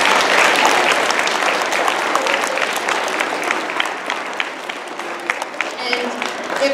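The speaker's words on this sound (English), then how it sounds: "Can we give them a round of applause?" An audience at a school assembly claps steadily for several seconds, a dense wash of applause that thins toward the end into a few scattered claps with faint voices mixed in.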